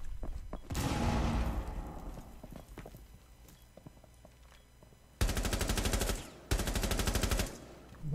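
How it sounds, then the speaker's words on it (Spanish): Rapid automatic gunfire in Rainbow Six on PS4 aimed at a drone, two loud sustained bursts in the second half, following an earlier impact boom and scattered footsteps and game noises. "estoy disparando un puto dron"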